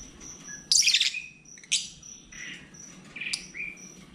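Pet birds chirp and tweet in a few bright bursts of varied calls, close and fairly loud, over a quiet indoor background with faint insect-like hiss and no talking.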